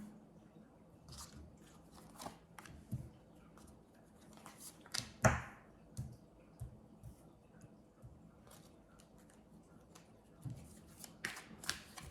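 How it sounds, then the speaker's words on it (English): Tarot cards handled and shuffled at close range, with soft scattered flicks, slides and riffling taps spread unevenly, one sharper snap near the middle, and a quiet room otherwise. "Well, let's get all the cards out."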